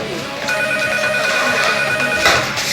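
A telephone rings continuously in a house during a party, steady electronic tones over background music and voices.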